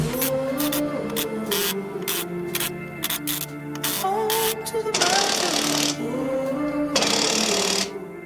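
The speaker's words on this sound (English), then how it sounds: "As much as I like these electric rattle guns, you can't always trust them" Electric rattle gun (impact wrench) working on the wheel nuts of a Land Rover Series 2A, delivering short loud hammering bursts in quick succession, then two longer harsh buzzing runs.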